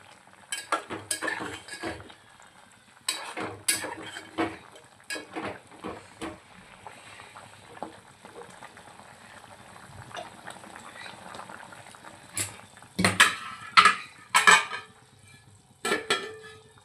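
Chicken pieces boil in a pot, bubbling and simmering steadily on the stove, with occasional clinks of a utensil against metal and some quiet movement nearby.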